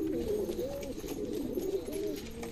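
Pigeons coo in a loft, soft rolling calls overlapping one another in a steady murmur, fairly close and continuous with no talk.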